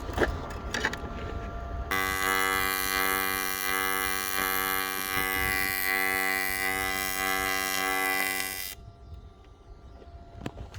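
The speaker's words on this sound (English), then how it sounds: "And now we're going to weld it and fix it up so it doesn't get any worse." Welding on a cracked race car engine part, a loud steady electric buzz that starts abruptly, holds for about seven seconds and cuts off sharply, with no talk.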